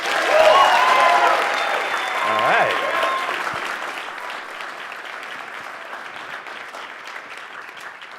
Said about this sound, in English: we're going to hear better applause